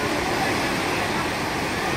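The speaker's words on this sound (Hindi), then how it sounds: "आज गंगा जल की लहरें कितनी तेज़ निकल रही हैं।" Fast-flowing Ganges river water at Haridwar after rain, a dense continuous rushing wash of waves heard steadily and moderately loud.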